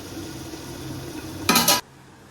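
A lid goes onto a cooking pot of half-boiled food with one brief, sharp metallic clatter near the end, after a soft, low simmering bed of sound; no one speaks.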